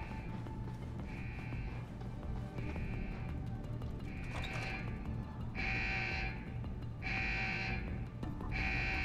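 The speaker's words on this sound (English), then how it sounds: "And that got the alarm going." An electronic alarm pulses in the video game Deus Ex: Human Revolution, repeated tonal beeps in a regular on-off rhythm, growing louder over a steady hum of background game ambience.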